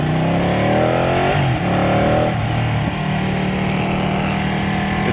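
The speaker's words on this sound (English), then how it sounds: "The bike sounds really good already. Has a better exhaust note than the Monster 1200 I rode." A 2018 Ducati Panigale 899 motorcycle engine revs up loudly nearby, its pitch climbing smoothly before dropping back to a steady, throaty idle, heard alone with no talk.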